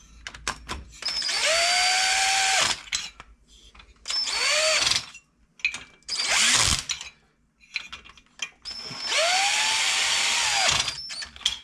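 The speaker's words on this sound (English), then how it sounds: "I have my drill handy here to run these down" Cordless power drill running down the head bolts on a 1976 Harley-Davidson golf cart engine, four loud separate bursts of whirring motor, each spinning up and slowing as the clutch slips, with short pauses between.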